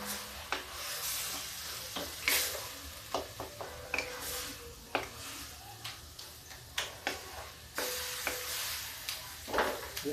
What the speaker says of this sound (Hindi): ये बैंगन भून रहा मेरा।